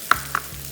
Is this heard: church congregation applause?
no